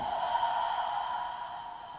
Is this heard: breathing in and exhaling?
yes